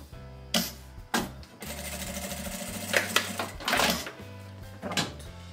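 Sewing machine running in short, fast bursts as it stitches a safety seam on fabric for a mouth hygiene kit, with brief pauses between runs and a steady mechanical whir close by.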